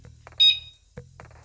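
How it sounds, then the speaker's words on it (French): Home alarm system giving a short electronic beep as it is armed, a single bright tone near and fairly loud, set apart by quiet handling sounds. "je veux activer l'alarme."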